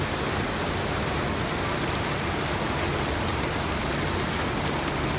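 Steady rain pours down, a dense continuous hiss of drops with no pauses or voices.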